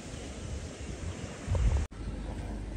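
Sea waves wash onto Baga beach in Goa as a steady broadband roar. Strong wind buffets the microphone throughout, and a heavier surge comes near the end before a brief dropout.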